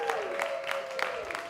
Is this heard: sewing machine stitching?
no